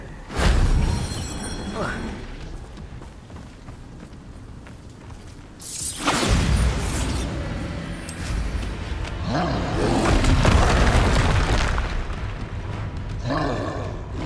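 A Bombarda spell erupts in Hogwarts Legacy: a loud, roaring blast bursts in around the middle, followed by crackling debris and rumbling, with smaller magical whooshes before and after.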